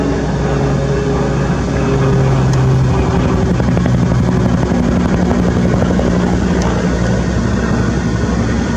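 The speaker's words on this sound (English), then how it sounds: "Here comes another one, helicopter." A loud, continuous low rotor drone with steady throbbing from a helicopter flying overhead at a Southern California wildfire fills the whole stretch, holding close and constant without any voices.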